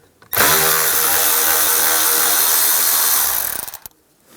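A power driver with a T15 bit whirs steadily for about three seconds, backing screws out of a hazard switch cover on a 1998-2010 Volkswagen Beetle, then stops with a few faint clicks.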